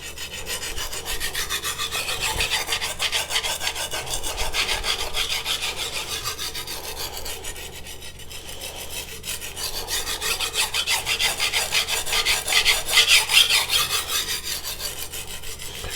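Steady, rhythmic rasping of a Yoshikazu Ikeda 210mm White #2 honyaki gyuto blade stroked back and forth across a whetstone, continuous and close, with no talking.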